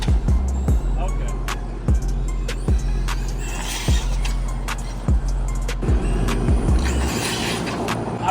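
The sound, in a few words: modified 4S Traxxas Mudboss RC truck doing a wheelie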